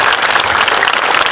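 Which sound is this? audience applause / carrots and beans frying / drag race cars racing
audience applause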